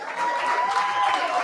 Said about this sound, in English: A round of applause for all our players today.